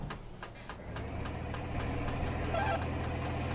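A farm machine engine runs steadily in Farming Simulator 22, a continuous mid-pitched rumble with a faint rhythmic knock, holding constant and growing slightly louder toward the end.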